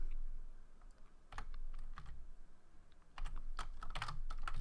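Quick clattering keystrokes on a computer keyboard, scattered bursts of taps with short pauses, faint and close against a low background hum, no talking.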